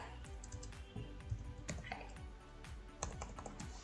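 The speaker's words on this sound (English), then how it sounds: "I'm just going to type hi." A few quick, soft keystrokes on a computer keyboard, close and light, scattered clicks with quiet gaps and no talk over them.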